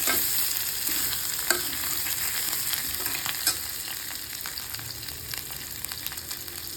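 Boiled small potatoes frying in a pan, a steady close sizzle broken by occasional scraping stirs, with no talking.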